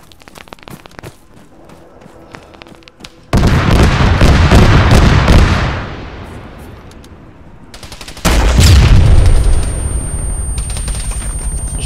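Explosive charge going off beside a plane in the video game ArmA 3: two loud, sustained roaring blasts with a decaying rumble, preceded by scattered clicks and faint gunfire.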